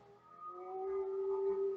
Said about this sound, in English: I don't know if you hear that nice motorcycle in the background.